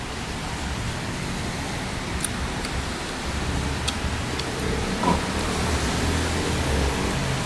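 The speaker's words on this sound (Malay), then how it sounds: "Ada hujan tu." Steady rain falls outside a home kitchen, a broad even hiss of drops with faint occasional clicks, constant and moderately loud, no talking.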